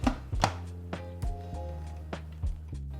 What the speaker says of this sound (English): And then we're going to mix it all up.